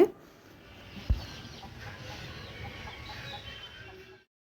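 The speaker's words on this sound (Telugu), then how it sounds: "కోళ్ళు అండి కోళ్ళు పెంచుతారు కదా" Soft clucking of chickens in a quiet farmyard, with low scattered calls and a brief thump early on, fading out near the end.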